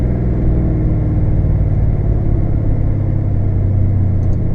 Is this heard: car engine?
yes